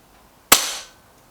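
A single sharp crack from an Artemis P15 air rifle, close and loud, with a short bright decay trailing off in under half a second, surrounded by near silence.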